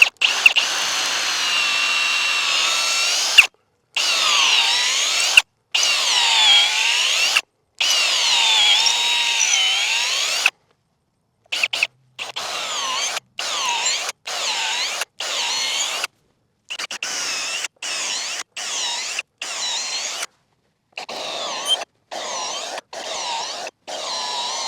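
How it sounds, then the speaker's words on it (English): Power drill with a 3/8 inch bit boring through a wooden fence post, whining in repeated bursts of several seconds separated by short silent pauses, close and loud with no talking. "I got my drill, my 3/8 bit. We'll start on that hole right there."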